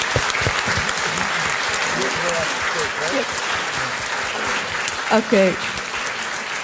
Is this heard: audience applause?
yes